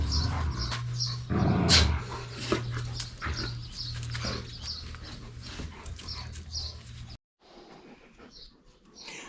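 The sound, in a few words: dogs in the garden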